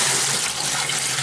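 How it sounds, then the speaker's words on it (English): Water from a 5-gallon bucket pours into a basement utility sink, a steady, continuous rushing splash with no pauses. "So what we're going to do here is just pour in a 5-gallon bucket of water."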